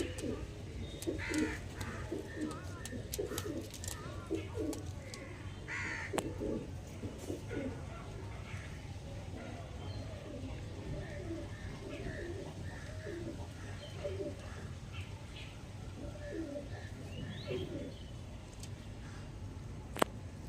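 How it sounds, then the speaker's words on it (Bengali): Pigeons of Punjabi, cargo and Chennai breeds coo softly and repeatedly at close range, with faint rustling and some quiet talk in the background. "এই হচ্ছে দুটো পায়রা দেখে নিন"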